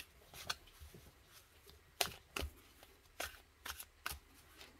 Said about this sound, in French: on va tirer du coup une carte